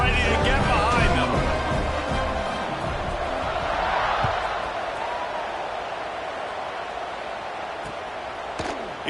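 A stadium crowd in a football video game roars steadily at kickoff, a broad continuous wash of cheering and hubbub that swells slightly and then eases, loud and sustained throughout.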